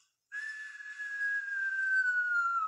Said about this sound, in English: I heard this cartoon falling sound like a whistle